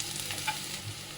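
Peanuts and onion sizzling in oil in a pan while kanda pohe is made, a steady close frying hiss with no talk over it.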